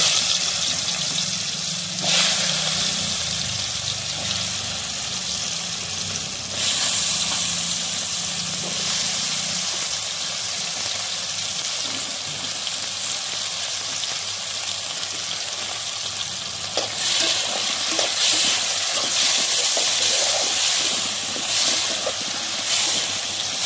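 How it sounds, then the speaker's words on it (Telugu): Mushrooms frying in hot oil give a steady, dense broadband sizzle and hiss that runs the whole time, with brief louder bursts where they are stirred or shifted, close up and with no voices. "మష్రూమ్ని నూనెలో ఇలా వేయించుకోవాలి"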